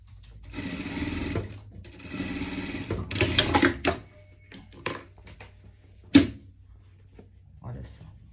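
A sewing machine runs in two fast bursts stitching a seam on knit fabric, followed by shorter clicks and mechanical taps as the work is adjusted, close and fairly loud.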